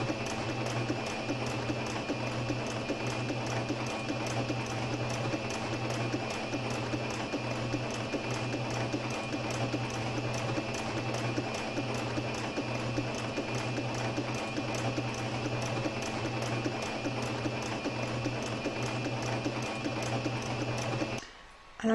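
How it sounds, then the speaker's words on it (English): Embroidery machine stitching an in-the-hoop crazy patch evening bag, a fast, steady mechanical rattle of needle strokes running continuously for about twenty seconds before stopping abruptly. "next I'm going to set up my machine, and we're going to be sewing from here all the way around"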